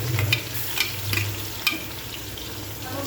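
Mustard seeds and cumin crackle in hot oil for a Gujarati corn curry, with quick popping and spattering bursts over a low sizzle, a few of them sharp and close.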